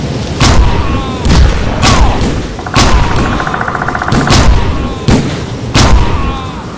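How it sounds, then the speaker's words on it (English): .44 Magnum revolver shots in a video game, about eight heavy booming shots at a steady rhythm of roughly one per second, loud and close, with a brief whirring mechanical sound between two of them. "So how is this game's Magnum?"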